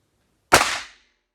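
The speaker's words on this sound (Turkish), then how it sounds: "Şimdi 38'de bir atış yapacağım tekrar." A single sharp .38 caliber gunshot fired at a steel bulletproof vest cracks out loud and close after silence, decaying quickly.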